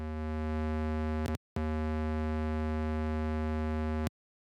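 A sine wave synth through a distortion plugin gives a buzzy, harmonically rich tone that drones steadily, cuts out briefly, returns, then stops abruptly.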